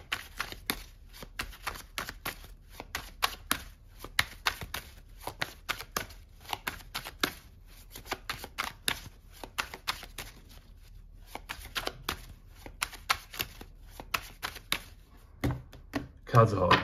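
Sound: shuffling tarot cards

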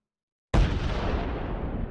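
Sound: explosions in video game Risk Global Domination

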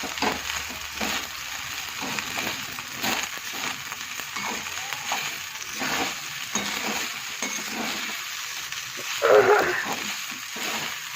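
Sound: stir-frying leftover rice in pan

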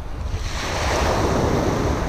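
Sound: surf waves breaking on beach

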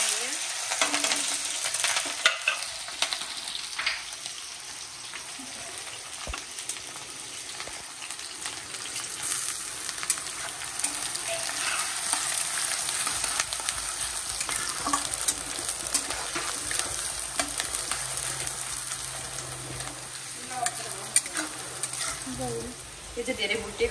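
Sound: chili and onion frying with local chicken meat in a wok

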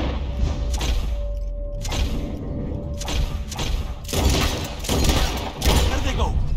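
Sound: gunshots at flying birds in Red Dead Redemption 2 video game

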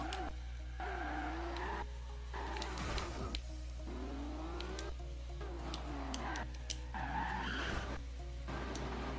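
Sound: car tires skidding while drifting in video game Forza Horizon 2

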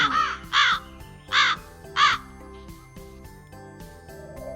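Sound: crow cawing

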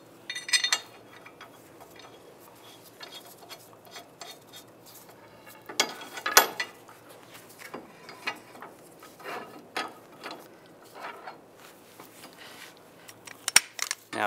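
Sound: Volkswagen Jetta rotor and hub being spun

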